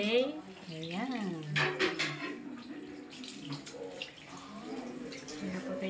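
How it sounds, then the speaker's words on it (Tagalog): A shower runs with a soft, continuous spray and splash while people talk over it nearby. "Ayan po tayo shower. May shower na po."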